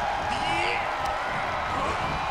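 A wrestling arena crowd roars loudly and steadily as a wrestler plays to the audience, a dense, continuous wall of cheering and whooping with a commentator's voice running over it.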